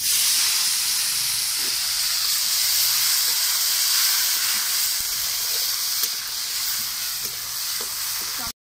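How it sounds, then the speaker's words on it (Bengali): Chopped tomato frying in hot oil with dried chilli and nigella seeds for a chicken curry, giving a loud, continuous sizzle and hiss with occasional stirring scrapes close by, and no talking. "প্রথমে আমি টমেটো কুচি দিয়ে দেবো।"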